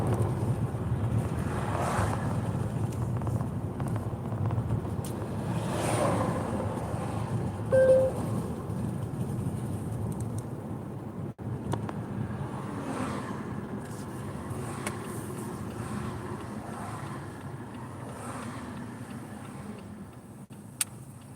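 A car cruising up Monroeville Boulevard during a delivery run, a steady low engine and road rumble with wind noise from inside the cabin, continuous and fairly quiet, with a few faint clicks and shifts.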